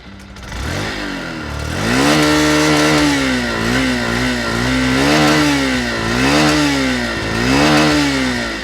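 A Honda Shine 100 DX motorcycle engine with a chrome-stripped silencer pipe revs loud and close, its exhaust note rising and falling in several repeated swells over a steady idle, with no talking.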